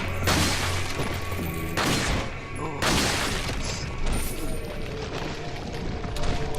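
Pistol shots in Resident Evil 4, several loud cracks spaced about a second apart over dense game noise and impacts, with no voice over the shooting.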